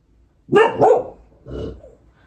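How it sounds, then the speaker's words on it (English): A dog barks indoors in three sharp, close bursts, two quick barks and then a softer third, loud against a quiet room. "Now my dog's barking."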